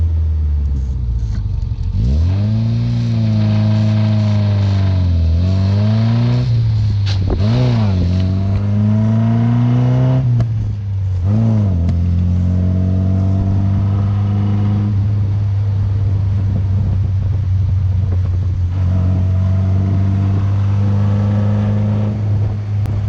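A classic Triumph Spitfire's engine revs up and down as the car drives, a loud, close, continuous rumble with rising and falling pitch and sharp throttle swells through the first twelve seconds, then a steadier drone.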